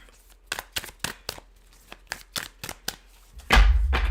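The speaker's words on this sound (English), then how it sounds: "let's get the cards all shuffled" A deck of tarot cards is shuffled by hand in a series of sharp, quick riffling snaps, about a dozen crisp bursts close to the microphone, ending with a louder rustle.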